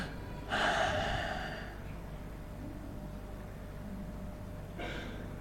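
A voice imitates panting, gasping breath with a sharp drawn-in gasp, a long stretch of quiet breathing, then another short breathy gasp, close to the microphone.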